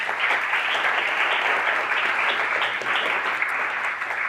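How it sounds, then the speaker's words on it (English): An audience applauds a panel of speakers, a dense, steady wash of clapping from many hands that holds at an even level throughout, with no voices over it. "Can we have a round of applause for all of them?"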